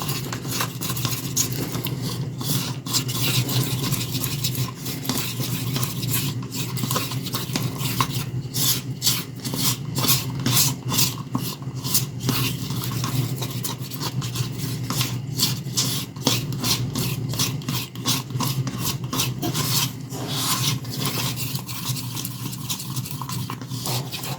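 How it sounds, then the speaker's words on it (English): Steady rhythmic scraping and rubbing as a mixture is stirred and the sides of the container are scraped, a continuous close texture of repeated strokes lasting throughout without any talk. "So now we're going to stir, scraping the sides."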